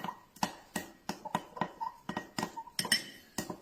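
A small knife stirring red cabbage juice mixed with baking soda in a glass, tapping out quick, light, irregular clinks against the glass, close and fairly quiet.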